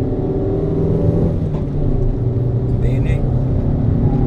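Fiat Grand Punto race car heard on board at the Le Cave circuit in Vittorio Veneto: a loud, steady engine drone fills the cabin throughout, with slight rises and dips in pitch as it is driven on track.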